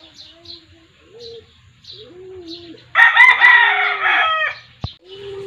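A rooster crows once in a loud, full-throated burst lasting about two seconds, near and clear, at a rural provincial home in the Philippines, with softer dove and bird calls before and after it.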